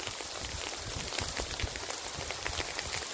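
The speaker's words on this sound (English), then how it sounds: "I mean, it is completely hailing." Hail pelting down during a rare San Diego hailstorm, a dense, steady patter of countless small impacts that stays loud and even throughout, with no talking.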